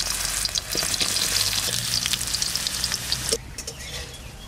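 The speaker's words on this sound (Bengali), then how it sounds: "এবার আলু আর এঁচড়টা ভাজবো।" Potatoes and young jackfruit fry in hot oil in a pan, with a loud, steady sizzle broken by scraping stirs before it settles to a softer sizzle near the end.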